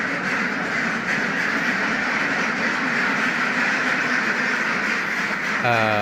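Ducks quack steadily inside a duck house with egg-laying troughs, a dense continuous chorus of calls throughout, close and fairly loud with no clear gaps.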